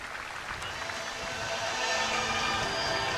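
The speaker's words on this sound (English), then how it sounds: "Give her a massive round of applause." A crowd at a women's T20 cricket match applauds as the winning team collects medals, a dense, even wash of clapping heard from a distance that swells slightly toward the end.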